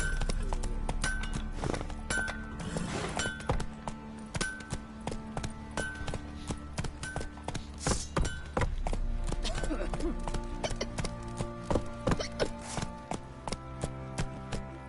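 A horse gallops in The Witcher 3, steady rhythmic hoofbeats close and clear for the whole stretch, with voices speaking over them now and then.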